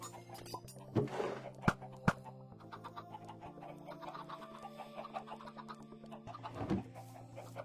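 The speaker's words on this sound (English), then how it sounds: "A chicken." Chickens cluck softly in a few scattered calls over a steady humming background, fairly faint and unaccompanied by talk.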